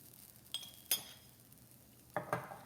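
Metal spoon clinking against a bowl while mixing salt and chilli powder into sprouted chickpeas, four sharp, faint taps spaced irregularly across a quiet background.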